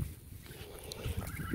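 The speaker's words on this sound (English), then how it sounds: "Okay, I caught our poor chicken, and I'm gonna put her in the coop" A distressed chicken squawks in short, ragged bursts while being caught by hand outdoors near a garden coop, the calls fairly close and uneven over low rustling noise.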